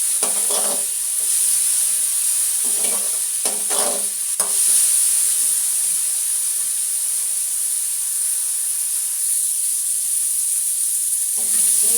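Ingredients for pachadi fry in a pan with a steady bright sizzle and hiss, broken by a few short bursts of stirring, while a voice speaks briefly in the background.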